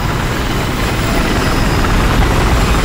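A helicopter in the video game Battlefield 4 drones steadily with a dense, loud rotor and engine roar that stays constant throughout, with no talk over it.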